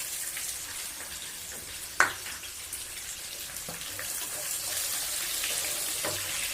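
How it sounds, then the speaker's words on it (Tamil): Small onions (shallots) with fennel seeds and curry leaves sauté in a pan for prawn gravy, a low steady sizzle with one sharp clink of a utensil and a few faint scrapes, no speech. "இப்போ வெங்காயம் நல்லா வதங்கட்டும்."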